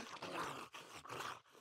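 A dog growling in the survival video game 7 Days to Die: low, rough, rumbling growls rising and falling in about three swells, quiet and alone without talk.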